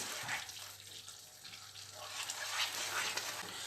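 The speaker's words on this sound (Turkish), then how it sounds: "Ve süt çekene kadar karıştırıyorum bu şekilde." Semolina halva being stirred in a pan as milk soaks in, a steady soft scraping and wet sizzling hiss that runs continuously and close by, with no voices.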